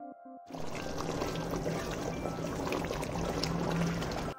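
Water rinsed from a mixer jar pours into a pot of cooking chilli chicken curry, a continuous close splashing flow lasting about four seconds after a brief quiet start.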